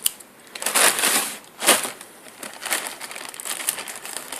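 Crinkly, crunching sounds of packaging being cut open with scissors and pulled open, in several close, uneven bursts with short pauses between them.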